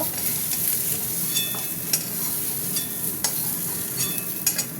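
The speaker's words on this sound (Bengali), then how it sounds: "ভাজা ভাজা হতে থাক। ভাজা হয়ে গেছে বন্ধুরা, এবার তুলে নেবো।" Food sizzles and crackles in hot oil, a dense steady hiss punctuated by brief sharp pops and a few faint utensil clinks.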